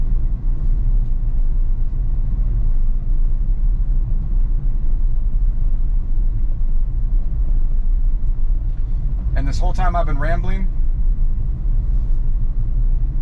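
Steady low road rumble from a car driving itself on Full Self-Driving 12.5.4, a constant drone heard from inside the cabin, with a person talking briefly near the end.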